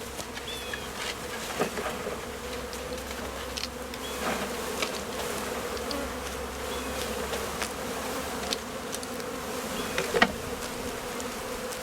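Honeybees buzzing steadily around a hive during installation on a small farm, a dense continuous drone with individual bees zipping close past now and then.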